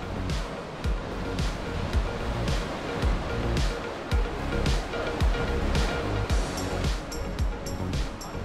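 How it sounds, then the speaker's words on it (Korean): Strong ocean waves crash steadily on a rocky coastal trail on the Homi Peninsula, a loud continuous roar of surf with repeated heavy breaking surges close by. "파도가 심하게 치는데 저곳에 텐트를 치셨네요."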